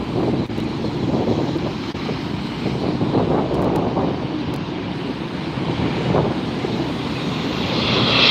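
A United airliner arrives at LAX, its distant jet roar a broad steady rumble mixed with wind buffeting the microphone, swelling slightly toward the end.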